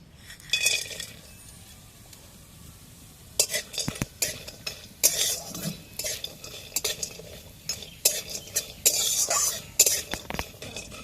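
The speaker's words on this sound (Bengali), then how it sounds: "আমি এখানে একটু বড়ি ছোট ছোট টুকরো করে ভেঙে নিয়েছি। প্রথমে এটাকে একটু তেলে ভেজে নেব।" Broken lentil dumplings (bori) fry in oil in a pan under a soft sizzle, while a metal spatula stirs them with irregular clinks and scrapes. The sound is fairly quiet and close.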